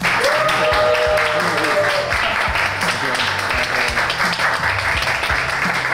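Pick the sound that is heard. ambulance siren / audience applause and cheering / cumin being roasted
audience applause and cheering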